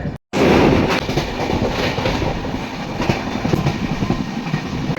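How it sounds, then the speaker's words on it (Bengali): Shipra Express train rolling into Dhanbad Junction at night, heard from on board: a steady, loud rumble of wheels and carriages with faint clattering throughout, after a brief silent gap at the very start. "ঘড়িতে সময় রাত্রি দশটায় আমাদের ট্রেন এসে পৌঁছালো ধানবাদ জংশন"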